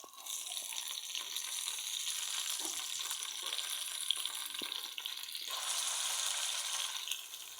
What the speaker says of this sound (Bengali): সব কিছু একসাথে এখন কিছুক্ষণ ভেজে নেব, যাতে আদা রসুনের কাঁচা ফ্লেভারটা না আসে।